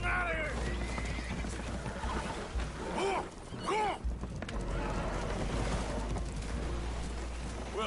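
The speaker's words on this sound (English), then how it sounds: "Horses are spooked, and we're taking on water." Spooked horses neigh and whinny repeatedly aboard a leaking boat in Red Dead Redemption 2, shrill rising calls over a sloshing, rumbling background with some clopping.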